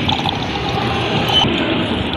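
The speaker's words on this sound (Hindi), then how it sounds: "पानी इसमें डालते हैं" Water pours steadily into a water cooler at a mosque, a continuous close splashing trickle at even level throughout.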